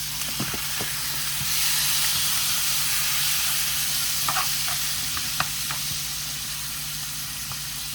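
Sliced onions and peppers sizzle in a skillet with a steady, soft hiss, punctuated by a few light clinks and stirring sounds, no talking.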